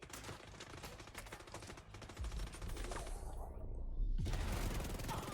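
Rapid SMG gunfire in a video game's Assault global event, dense continuous bursts that build in loudness toward the end, with heavy impacts and a brief lull in the highs just before four seconds.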